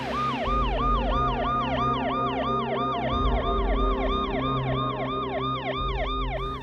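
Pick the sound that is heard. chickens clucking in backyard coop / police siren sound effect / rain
police siren sound effect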